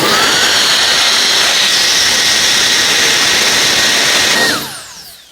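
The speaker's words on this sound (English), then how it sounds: "This is the strongest jet blowers which I have." A VOGMA V9s turbo jet duster blower, a 200000 RPM handheld cleaning fan, screams loudly and steadily at close range, then spins down quickly over the final second.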